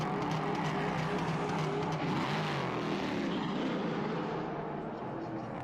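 Prototype race car pulling out of the pit lane at the Nürburgring during a Prototype Cup Germany race, a steady broadband engine roar that fades slightly toward the end, with continuous loud mechanical noise.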